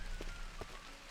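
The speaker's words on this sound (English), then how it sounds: "it's been raining all the way through this" Steady rain in the video game Pluviophile, a soft continuous patter of drops on a surface at low level, with a couple of faint brief knocks and no voices.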